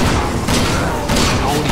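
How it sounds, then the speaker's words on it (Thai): A shot explosive blows up in the Resident Evil 6 video game, loud gunfire and booming blasts in a dense, continuous roar, with voices talking over it. "ผมยิงโดนระเบิดนะเมื่อกี้"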